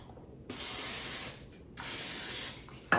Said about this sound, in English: I'm gonna go ahead and spray my waffle maker